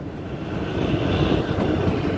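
Kalka–Shimla toy train running, heard from inside an air-conditioned vistadome coach: a steady, close rumble of wheels and carriage noise with a faint hiss above it, continuous and unbroken, with no talking.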